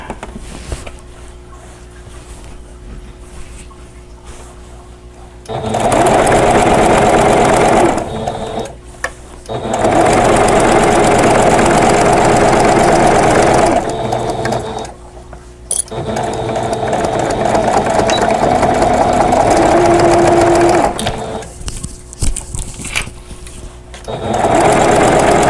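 A sewing machine stitches a quilted pillow cover with an envelope back, running in three long loud whirring bursts separated by short pauses.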